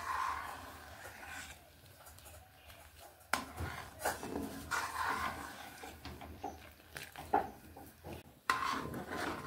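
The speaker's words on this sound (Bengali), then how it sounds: "দুধগুলোকে এইভাবে অনবরত নাড়ছি আর এইভাবে ফুটিয়ে নিচ্ছি।" A spoon scrapes around a pan as milk is stirred continuously to thicken into kheer, with soft, faint, irregular rubbing and scraping broken by a few louder knocks.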